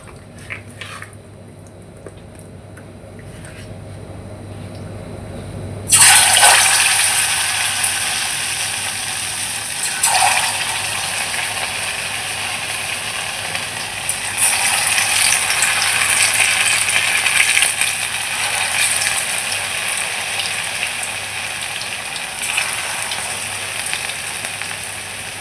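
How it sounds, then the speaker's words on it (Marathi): Chicken pieces go into hot oil in a wok for fried chicken, and a loud, dense sizzle bursts in after a quiet start. The sizzle holds steady and close, swelling now and then, with no voices. "आणि आता आपण चिकन सोडूया त्यामध्ये"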